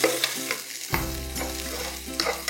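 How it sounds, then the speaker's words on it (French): Onion sizzling and being stirred in a frying pan with salmon and other ingredients, a constant close hiss broken by scraping stirs, no talking. "Maintenant, je rajoute un oignon."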